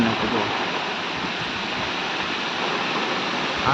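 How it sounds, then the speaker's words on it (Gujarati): Heavy rain driven by strong wind pours over a farm field in a loud, constant roar of broadband noise, steady throughout without a break. "એકદમ પવન જોડે વરસાદ આવ્યો છે આટલો બધો જોરમાં વરસાદ પડે છે"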